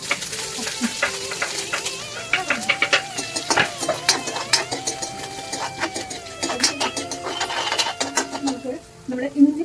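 Cumin seeds crackle and sizzle in hot oil, with a steady spatter of small pops and occasional clinks of stirring close by, at moderate volume.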